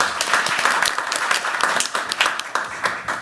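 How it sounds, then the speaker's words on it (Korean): Audience at a Korean National Assembly ESG talk concert claps in a moderate, uneven burst of applause lasting several seconds, indoors and fairly close. "박수 한번 해주세요."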